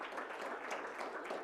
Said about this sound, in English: let's give Charlie a round of applause